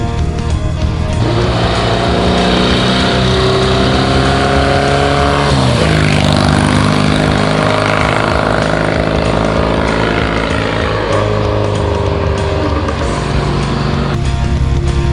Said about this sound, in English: The engine is perfect for this size motorcycle, for the weight.